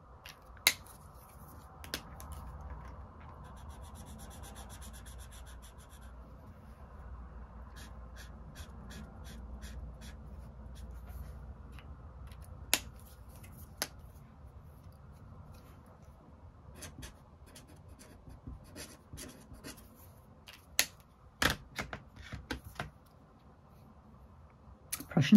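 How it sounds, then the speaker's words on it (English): A scratchy pen nib scraping across paper in quiet, intermittent strokes, with short bursts of fine rasping between pauses and occasional sharper ticks near the end. "This one, this nib is quite scratchy"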